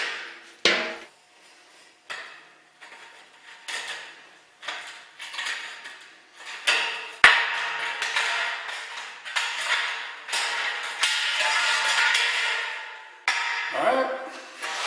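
Cutting corrugated steel wainscot trim on a garage wall, heard as a series of harsh, rasping cutting bursts in uneven rhythm, close and fairly loud, with short pauses and a sharp metallic clank partway through.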